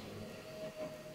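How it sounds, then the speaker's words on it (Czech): A quiet, low rumble of a train moving along the tracks in the video game Need for Speed: The Run, steady and fairly distant, with a faint tonal hum running through it. "Tam jde vlak, ne?"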